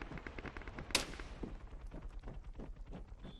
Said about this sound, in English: To stand up as high as I possibly could to get my gun to shoot over the top of the wall there.